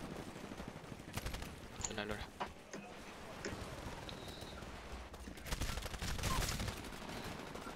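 Gunfire from the Titanfall video game crackles in bursts and rapid volleys, some sharp and close, others distant, while players talk over the action.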